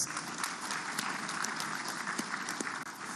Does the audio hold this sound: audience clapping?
yes